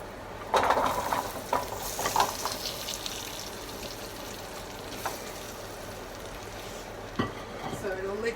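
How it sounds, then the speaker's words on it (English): Chicken and vegetables go into hot oil in a baking tray and hiss with a steady, close sizzle. Scraping stirs and light clatter from the pan are heard on top of the frying. "So it'll literally sizzle as it goes in there"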